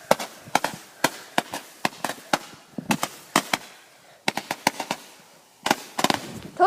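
Small fireworks shoot up in a rapid series of sharp, loud pops and cracks, close by, with brief pauses between bursts.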